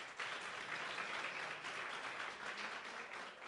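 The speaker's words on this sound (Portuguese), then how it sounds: "Queria que vocês recebessem com uma salva de palmas." Steady, sustained applause from an audience at a Brazilian youth dialogue event welcoming a guest, continuous and moderately distant, with no talk.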